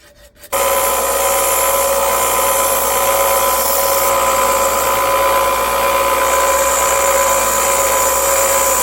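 A workshop fan kicks on abruptly and runs with a loud, steady broadband whoosh and hum, unchanging and close for the rest of the stretch.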